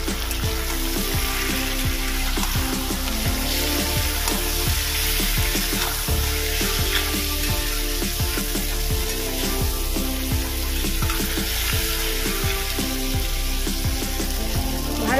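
Prawns fry with salt, turmeric and chilli powder, a loud dense sizzle running unbroken, with frequent rhythmic scraping of a spatula stirring through the pan.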